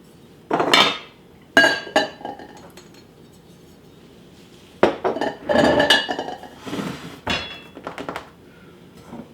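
Ceramic and glass dishes, including a candy dish, clink and clatter while a kitchen pantry is being organized, coming in several loud, close bursts separated by quiet pauses.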